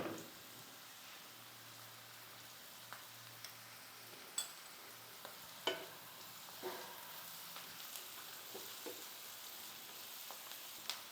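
Onions fry with turmeric powder in hot oil, giving a faint, steady sizzle with scattered soft clicks and scrapes from stirring in the pan.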